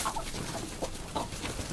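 Chickens cluck close by in a dense, overlapping chorus as they are put away for the night, with short clucks and bursts repeating throughout.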